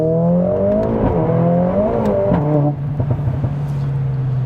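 A 500 bhp Mercedes-AMG A45S pulls hard on a wet Donington Park circuit, its engine note climbing loudly through the revs, dropping at a gear change, then rising again up close.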